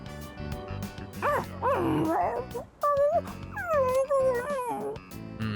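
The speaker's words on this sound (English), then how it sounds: "That doesn't sound like a happy dog." Unhappy dog in the Persona 3 Reload video game whimpering and yelping in a series of rising and falling cries, loud and close over game music, with no talking.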